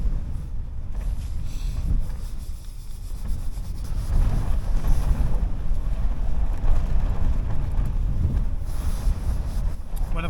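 Strong gusting wind buffets a hilltop camp on High Snockrigg, roaring and rumbling against the microphone and tent. It swells louder partway through and carries on steadily without speech.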